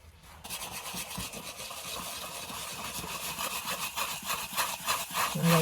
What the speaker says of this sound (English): I like to rub in a circular motion